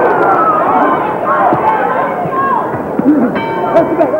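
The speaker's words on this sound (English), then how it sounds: "Clock winding down as we head toward the bell," A boxing bell rings briefly to end round 6 of a bout between Cecil Coffey and Donald Stokes, sounding near the end under a commentator's running talk and a murmuring crowd.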